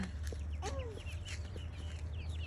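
Domestic hen clucking close by in a backyard setting at dusk, several short throaty clucks and a rising squawk over a steady low background hum, with no talk.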